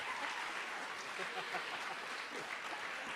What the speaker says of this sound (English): Sharon, Shorty, Grandma Susie, ladies and gentlemen, have a round of applause.